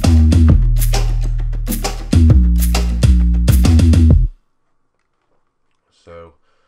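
Tribal club trap beat reduced to drums and bass: punchy kicks and crisp hits over deep sustained bass notes, loud and rhythmic for about four seconds, then an abrupt stop, silence and a brief spoken word.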